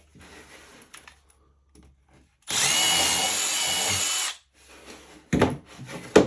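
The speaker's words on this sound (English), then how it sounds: "It's actually my grandpa's drill press." An old drill press bores a hole in wood in a home basement workshop, a loud steady whirring grind lasting about two seconds, set between quiet clicks and clattering handling noises.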